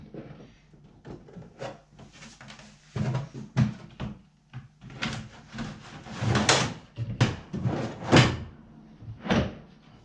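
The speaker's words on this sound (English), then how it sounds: "here's the bottom drawer coming home" A wooden desk's bottom drawer is pushed shut in several forceful shoves, each giving a sharp knock or thud with scraping between them, loud and close, with no talking.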